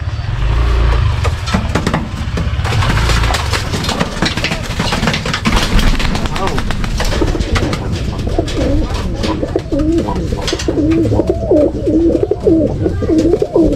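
Racing pigeons coo in soft, repeated throaty calls close by, over low background rumble, with some engine noise early on.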